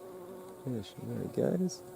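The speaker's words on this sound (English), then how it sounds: "there is what looks like a big Eristalis hoverfly just emerged" A big Eristalis hoverfly, just emerged in a bee-friendly summer garden, gives a short, fluctuating buzz lasting under two seconds, heard close and fairly soft, with a few brief words spoken.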